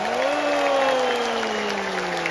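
An audience at a saxophone ensemble's fifth-anniversary Christmas concert claps in a dense, sustained wash of applause, with a held musical tone sliding beneath it.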